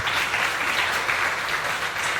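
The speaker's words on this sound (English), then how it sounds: "A clap for the sponsors" An audience at a Ugandan launch event applauds its sponsors with a dense, steady roar of many hands clapping, loud and continuous with no pauses.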